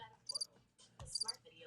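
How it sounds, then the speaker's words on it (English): Sound-button effect of crickets chirping, with short, high, bright chirps in two quick bursts and a voice speaking between them. "And you got some sound buttons here. We got crickets,"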